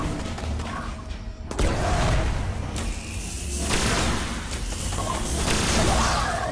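Grenade blast in Destiny, a sharp booming detonation followed by rolling rumble and whooshing debris, with continued loud crackling combat noise afterward, close and dense.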